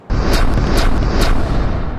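Diwali firecrackers going off in a dense run of loud, close bangs and crackling bursts that start abruptly and keep rolling without a pause.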